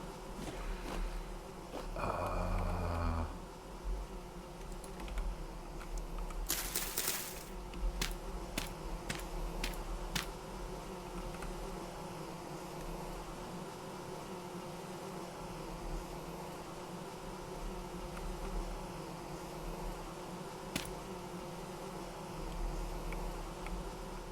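Bees buzz faintly in the survival video game Vintage Story, a low steady drone sitting under ambient game sound with a few scattered clicks.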